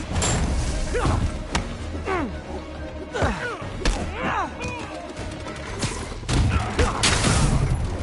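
Gunfire and combat impacts in a Spider-Man video game, a busy mix of thuds, bursts and crashes with swooping effects, loud and close, with talk mixed in.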